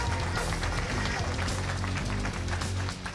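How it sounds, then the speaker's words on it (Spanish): A crowd at a political candidacy rally applauds loudly and continuously, a dense wash of clapping with general crowd noise mixed in throughout. "el doctor Francis Vargas, para que pida un aplauso"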